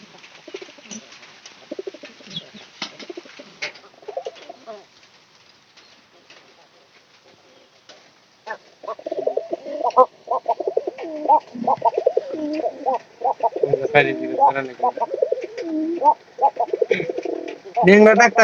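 Pigeons coo in low, throaty repeated calls nearby, growing louder and more continuous in the second half after quieter scattered sounds.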